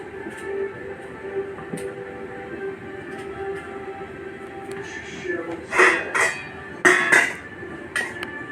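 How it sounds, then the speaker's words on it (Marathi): A knife chops fresh tomatoes on a board, with sharp, uneven taps and clacks that grow louder and closer together toward the end, set under a steady background hum. "आता टोमॅटो मी चिरून घेते"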